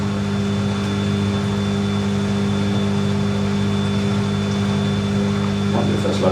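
A washing machine spins after rebalancing its load, giving a steady, close whirring hum with a constant drone that carries evenly throughout.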